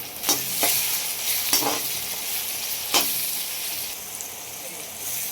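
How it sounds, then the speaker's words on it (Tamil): Onions sautéing in a pan with rock salt until golden, a steady bright sizzle broken by several sharp stirring scrapes near the start and middle, fairly close with no talking. "நம்ம கல் உப்பு சேர்த்து பொன்னிறமாக நல்லா வதக்கிடலாம்."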